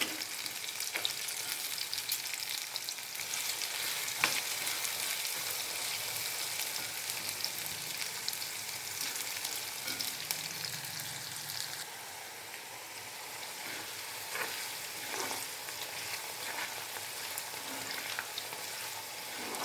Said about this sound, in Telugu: శనగబేడలు కొంచెం లేటుగా వేగుతాయి.